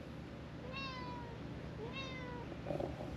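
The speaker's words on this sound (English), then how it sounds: "The sound you hear is a very stressed out kitty." A stressed cat meows twice in drawn-out, strained cries, close by, over a steady low background hum, during a storm outside.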